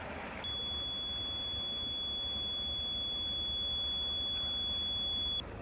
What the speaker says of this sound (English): the port engine alarm started to sound.